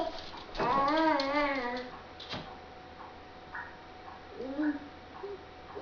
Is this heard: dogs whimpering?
yes